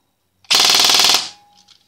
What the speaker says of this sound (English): And let's have a listen to full auto.